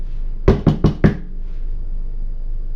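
A FedEx delivery driver raps on a door with four quick, sharp knocks in a row, fairly close, followed by quiet.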